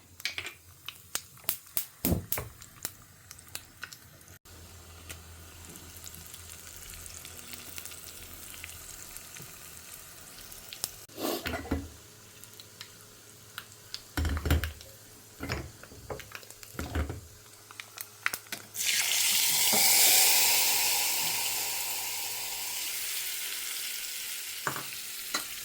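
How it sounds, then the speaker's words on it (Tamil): Mustard seeds and urad dal tempering in hot oil for a Tamil thaligai: sharp pops and crackles at first, scattered clicks and stirring knocks in between, then a loud, steady sizzle swells near the end, close and with no talk. "கடுகு உளுத்தம் பருப்பு தாளிச்சிடலாம்."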